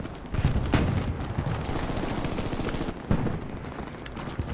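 Machine gun fire in the Hell Let Loose WWII shooter, a dense, continuous rattle of rapid shots with a few heavier cracks, loud and close, filling the whole stretch with no talk.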